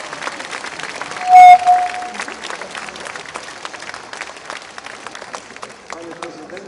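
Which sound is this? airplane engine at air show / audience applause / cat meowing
audience applause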